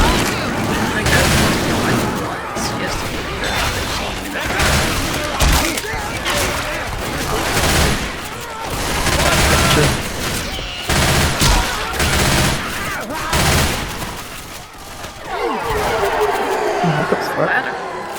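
A chain gun fires in bursts of rapid shots during a Left 4 Dead 2 game, loud and dense, with pauses between volleys. Players talk over the gunfire.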